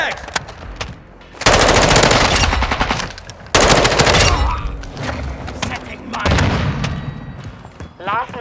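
Heavy, sustained automatic enemy gunfire in Call of Duty MW2 multiplayer, loud bursts of machine-gun fire hammering on and off, with shouted voices between volleys.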